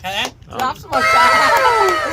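Onlookers at a punugulu eating challenge cheer and shout in a loud, close burst, broken by brief gaps before a sustained rowdy swell of overlapping excited voices.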